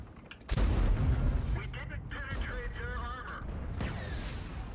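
Tank cannon fire in World of Tanks, one heavy close boom that rings out into a rumbling decay, with someone talking over the tail.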